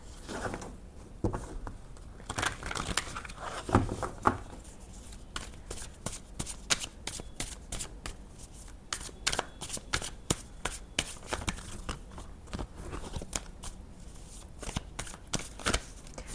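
Tarot cards are shuffled by hand in repeated quick riffles and slaps, forming crisp bursts of papery flutter that come close and clear in an irregular rhythm.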